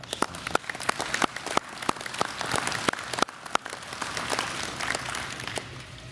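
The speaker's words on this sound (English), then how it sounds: "Let's all give them a round of applause" Audience applause at a veterans healthcare groundbreaking ceremony, a smattering of distinct nearby claps over a denser distant round of clapping, continuous throughout.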